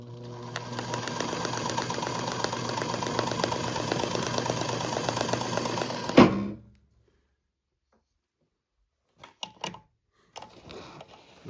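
A Janome New Home Deluxe 534 sewing machine runs at a steady fast whir with a rapid needle clatter for about six seconds, then stops abruptly, followed by a few faint mechanical clicks and handling noises.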